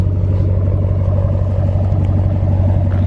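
A stock Hemi V8 in a Ram pickup gives a deep, loud, steady rumble heard close up from behind the truck. The engine throbs evenly with only a slight lift in tone and no clear sharp rev.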